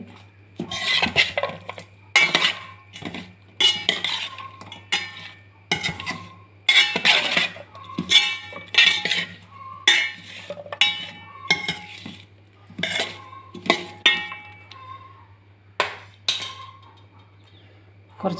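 Prawn roast masala being stirred and mixed in a pan with a utensil, giving repeated close scraping and clinking strokes in an irregular rhythm, with a faint low hum beneath and no talk.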